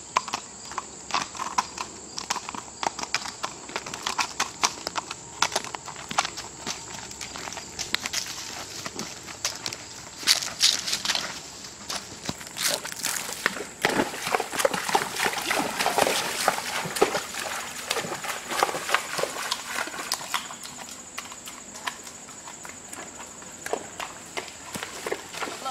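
Hooves of a Walker mare thud and clop as she steps into a creek, with some light sloshing water and a steady outdoor background, the sound irregular and moderately close.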